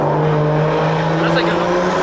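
A tuned 1000 hp BMW M140i accelerates through a tunnel, its steady engine drone booming and echoing off the walls, with a voice speaking over it.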